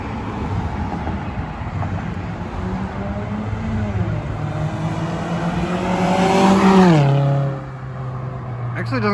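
A Scion tC fitted with a new exhaust accelerates past under load, its engine note rising steadily in pitch and loudness to a peak near the listener before dropping off abruptly, with brief talk nearby.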